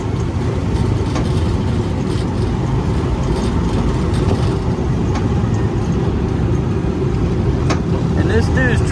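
Motorcycle trike rolling downhill through Angeles City streets, a constant close engine and road rumble with wind noise, with voices talking over it.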